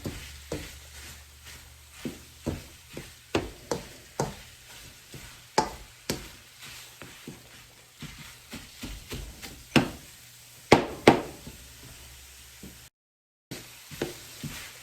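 Cabbage and other vegetables for egg rolls cook in a pan with a soft, steady sizzle, broken by regular clacks and scrapes as they are stirred. No one speaks.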